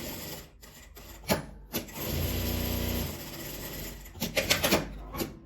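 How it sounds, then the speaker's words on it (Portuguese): Sewing machine stitching a seam on a denim tote bag, a close steady motor whir with mechanical rattle that starts, runs continuously for a few seconds and stops, with brief handling knocks around it. "vou passar uma costura fechando ele, deixando uma pequena abertura para desvirar"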